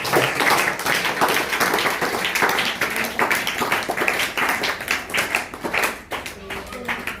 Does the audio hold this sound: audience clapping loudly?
yes